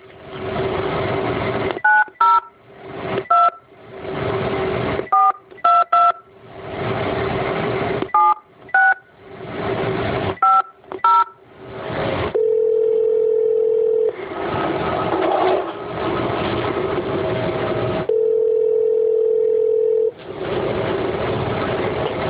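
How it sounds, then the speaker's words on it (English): A telephone number is dialed as a string of short touch-tone beeps in irregular bursts, with two long steady dial-tone stretches between them. The tones are loud and close, heard alone with no talking. "Bear with me while I dial their number."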